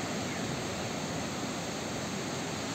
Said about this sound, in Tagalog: Tingnan niyo ang lalaki ng mga alon.